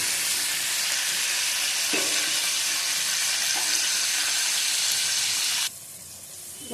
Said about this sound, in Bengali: দেখো বন্ধুরা এটা ভাজা হয়ে গেছে